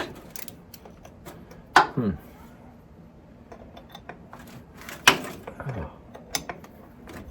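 A wrench ratchets in two short bursts against a rusty bolt, each a quick run of clicks close to the microphone with a quiet workshop in between.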